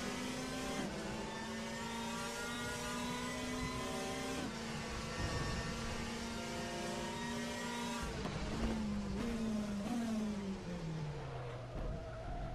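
A WTCC race car engine in the RaceRoom Racing Experience game at Hockenheim drones steadily at high revs, then drops in pitch in stepped downshifts as the car engine-brakes into a hairpin, with no talk.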